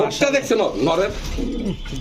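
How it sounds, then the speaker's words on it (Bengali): A White Danish pigeon of Pakistani bloodline coos up close, a run of throaty, rolling coos repeating one after another. "অরিজিনাল পাকিস্তান ব্লাডের কবুতর এটা হচ্ছে হোয়াইট ড্যানিশ"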